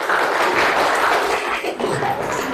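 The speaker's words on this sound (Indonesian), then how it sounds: "tepuk tangan untuk kelompok 1" A classroom group claps for the first group, with dense, steady applause from many hands sustained throughout.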